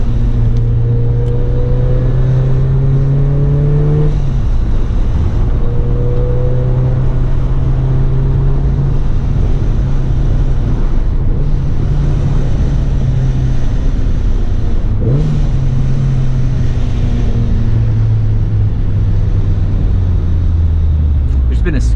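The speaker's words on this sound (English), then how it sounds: "And you get the nice blower noise." A supercharged Mazda Miata engine idles and revs with a rising and falling blower whine over a constant loud rumble, and people talk throughout.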